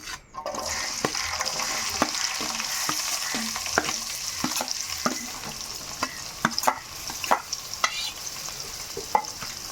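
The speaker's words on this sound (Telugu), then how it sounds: "ఉల్లిపాయలు పచ్చిమిరపకాయలు టమాటాలు కోసేసి ఉంచుకున్నాను ఇప్పుడైతే వేసేసుకుంటున్నాను" Chopped onions, green chilies and tomatoes fry in plenty of oil for a brinjal and dried fish curry, a loud, close, continuous sizzle with regular clicks of stirring against the pan.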